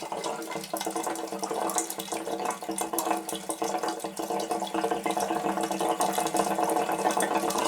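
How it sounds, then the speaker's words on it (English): Water gushing steadily from a water heater's drain valve in a basement, a close, continuous splashing rush with bubbling texture, alone without talk. "I'm just regulating the flow by opening this valve up more or less"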